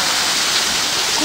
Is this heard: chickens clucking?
no